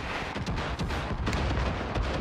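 Dense, continuous battle din from Far Cry 5, with heavy booming gunfire and blasts stacked tightly together at steady loudness and no clear pauses between shots.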